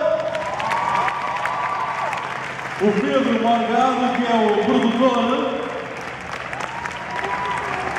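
Applause from a Comic Con Portugal panel audience carries on steadily in a large hall, moderately loud, while an amplified presenter talks over it.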